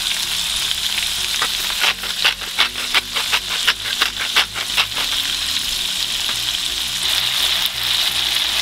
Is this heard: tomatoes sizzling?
yes